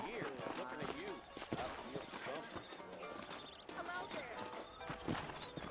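Saddled horses in the Red Dead Redemption video game clip-clop at a walk, rhythmic hoof beats mixed with a whinny and snorts, while people talk over them with music beneath.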